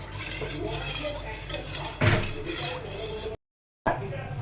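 A spoon scrapes and clinks in a bowl as agar-agar powder is mixed into a pudding mixture, with a sharper clatter midway and a short silent break near the end.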